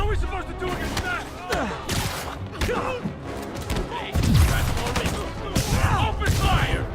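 Gunfire in Spider-Man Remastered, a ragged fusillade of sharp shots and heavy thumps scattered through the scene, loud and close, mixed with shouted voices and game effects.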